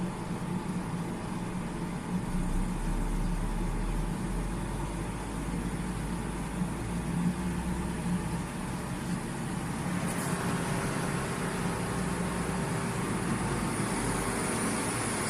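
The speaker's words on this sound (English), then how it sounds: "we must increase the engine speed to about 2000 RPM" Car engine held at about 2000 RPM with the headlights on to load the alternator, a steady low droning hum that runs continuously at an even, fairly quiet level.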